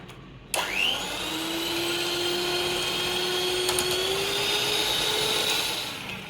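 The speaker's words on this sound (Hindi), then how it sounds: "अब हम इसको अच्छे से मिक्स कर लेंगे।" An electric hand mixer switching on and beating half a cup of ghee, its motor rising to a steady, loud, high whine that holds without break and then begins to fade at the end.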